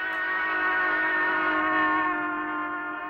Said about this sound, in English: locomotive steam whistle sounds higher when it is approaching and lower when it's receding.